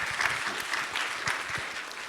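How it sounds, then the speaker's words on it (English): An audience claps for Logan at a sales-results event, a brief burst of dense, fairly near applause of many hands that holds steady for about two seconds without fading. "Clap it up again for Logan, please."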